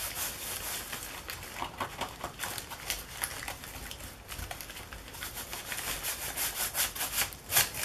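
Tissue paper being rubbed down by hand onto an art journal page, a soft, continuous papery scratching with brief bursts of friction, close and fairly quiet throughout.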